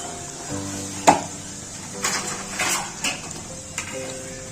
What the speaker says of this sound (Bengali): এগুলো উল্টে পাল্টে ভেজে নেবো।